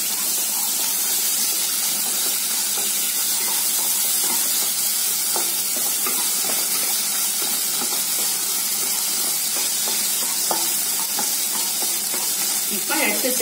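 Tomatoes sauté in oil in a pan on a stove at medium heat for brinjal kuzhambu, giving a loud, continuous hissing sizzle with scattered stirring scrapes throughout.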